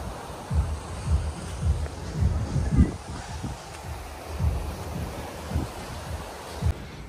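Sea waves at Mandarmani beach wash in with a steady low roar, with soft swells rising and falling and wind buffeting the microphone throughout.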